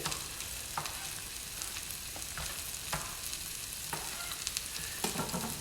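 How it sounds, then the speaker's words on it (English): Steady, close crackling sizzle of onions frying in a pan for chicken arrabbiata, with scattered pops and spits over a constant hiss. "my onions sizzling now, you can maybe hear"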